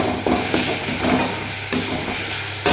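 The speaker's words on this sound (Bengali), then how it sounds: "এখানে পেঁয়াজ, আদা, রসুন আর একটু টমেটো দিয়ে ভাজা ভাজা করছি।" Onion, ginger, garlic and tomato sizzle in a hot pan, with a steady frying hiss and periodic stirring scrapes, close and fairly loud.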